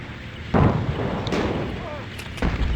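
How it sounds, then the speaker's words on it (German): Artillery fires in the Sudden Strike Forever war game: three heavy booming blasts, roughly a second apart, over a low rumbling battlefield background. "Artillerie ist bereit."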